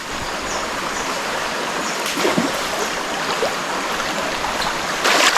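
River water runs steadily over rocks, a continuous broadband rush with brief splashy swells near the middle and the end, close and fairly loud throughout with no talking.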